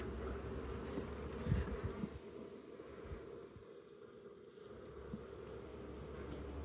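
Honeybees building out comb inside a hive hum in a steady, close, low-pitched drone with occasional louder buzzes and bumps, and no talking.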